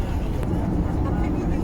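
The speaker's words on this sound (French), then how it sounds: "Il roule un peu plus vite, l'avion." Airplane accelerating down a runway for takeoff, heard from inside the cabin as a loud, steady low engine roar and rumble filling the whole stretch.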